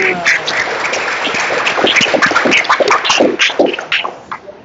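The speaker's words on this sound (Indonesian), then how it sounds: "Tepuk tangan semuanya." A classroom of children clap their hands at a teacher's prompt, a burst of loud, uneven claps close by, with some sharp vocal noises mixed in, that thins out and ends.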